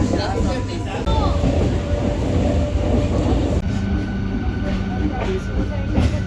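A local train on the Balichak to Howrah line rumbles steadily from inside the carriage, with continuous low roar and rattling, under a voice talking throughout.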